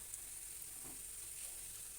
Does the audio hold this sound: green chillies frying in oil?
yes